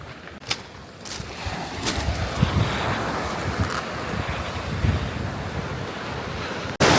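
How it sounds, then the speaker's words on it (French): Powerful sea waves surge and break along a shore in Albania, a continuous rushing roar of surf with gusts of wind buffeting the microphone, steady and fairly loud throughout. "Ouais les vagues elles sont puissantes."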